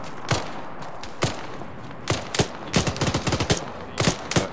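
Machine gun fire in a combat video game rattles in short bursts and single cracks, sharp and close over a low steady background rumble.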